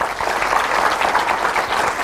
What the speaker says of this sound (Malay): berikan tepukan gemuruh untuk Politeknik Balik Pulau